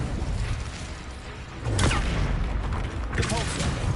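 Incendio fire spell cast in Hogwarts Legacy, a loud whooshing burst with crackle over busy game noise, followed by a second flaring burst a moment later.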